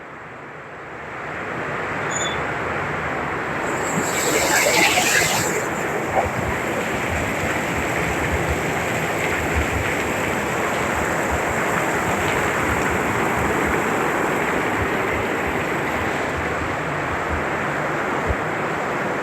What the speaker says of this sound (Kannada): ಹೊರಗೆ ಮಳೆ ನೋಡ್ರಿ ಹೆಂಗೆ ಮಸ್ತ್ ಮಳೆ ಬರತ್ತೆ.